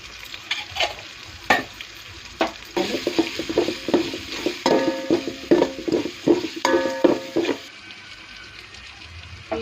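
Garam masala and coriander powder fry in a pan for chicken pulao, a crackling sizzle broken by a rhythmic run of spatula scrapes and clacks against the pan, fading to a quieter hiss at the end.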